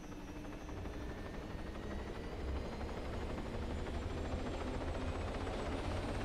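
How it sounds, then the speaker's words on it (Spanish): A helicopter in a video game powers up and lifts off, its engine whine and rotor thrum steady and loud, building slightly in intensity as it rises. "Y ahí estamos elevando nuestro helicóptero."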